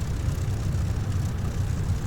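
Low, steady propeller-engine drone from a de Havilland Mosquito FB Mk.VI in the DCS flight simulator, throttling up on the runway; a continuous heavy rumble with no talk over it.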